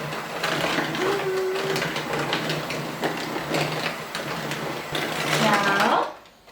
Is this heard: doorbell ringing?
no